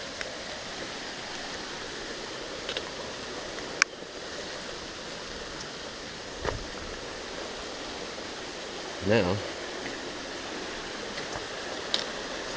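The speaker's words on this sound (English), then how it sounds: "I hear water." A brown stream flows steadily along a trail crossing on an Appalachian Trail overnight hike, a constant soft rush of water with occasional footsteps and brief knocks over it.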